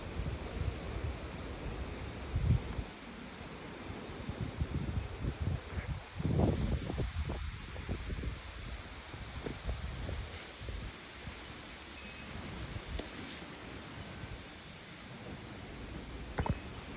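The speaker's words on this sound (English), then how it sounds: "It's windy, isn't it?" Wind gusts through leaves outdoors at night, a broad rushing hiss with scattered rustles and buffeting bursts against the microphone, fairly faint overall and steady throughout.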